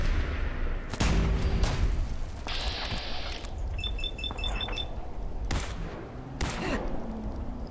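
Gunfire in Fallout 4's Far Harbor, with several sharp, loud shots spaced across a busy combat soundscape of booms, impacts and interface chimes, with no talk.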